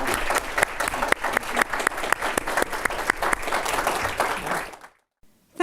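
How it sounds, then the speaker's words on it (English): An audience applauds speakers at a policy event, a dense, steady burst of many hands clapping that runs for several seconds before cutting off into near silence. "Please join me in giving our speakers a round of applause."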